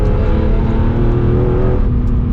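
A BMW E46 M3 CSL engine revs hard and steadily, dominated by a deep, loud induction roar with a rich harmonic drone, close and continuous with no talking.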